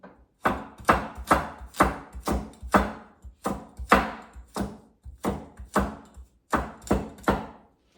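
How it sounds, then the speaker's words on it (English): Knife blade chopping green cabbage on a cutting board, a long series of crisp, close thunks in an uneven rhythm with a few short pauses, no talking. "So I chop it like this big."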